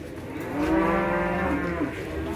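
Cattle at a livestock market give a single long, loud, close moo that swells and holds for a couple of seconds.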